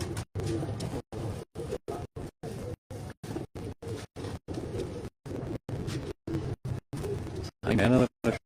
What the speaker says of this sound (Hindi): ये भी पट्टी वाला कबूतर है।